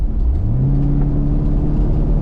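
A 2000 Chevrolet Corvette C5 revs while driving, the engine note climbing smoothly and then holding as a loud, steady drone inside the car, with no one talking.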